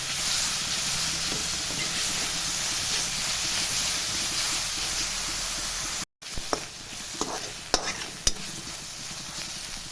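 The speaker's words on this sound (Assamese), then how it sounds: "আদা নহৰু আৰু পিঁয়াজখিনি প্ৰায় গোন্ধটো যোৱালৈকে ভাজিলোঁ" Ginger garlic paste and chopped onions with green chillies frying in hot oil, giving a continuous close sizzle. After a brief cut it returns quieter, with sharp scrapes and taps from stirring.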